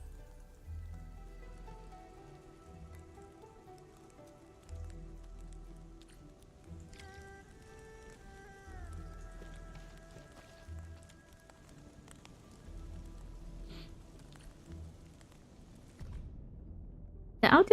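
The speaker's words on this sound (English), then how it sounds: "The audio terminal plays an audio recording. Endlessly the raindrops fall." Rain plays from an audio terminal in the video game Endfield: soft, quiet patters and drips in irregular clusters, with faint tonal game sounds drifting over them and a sharp tap at the end.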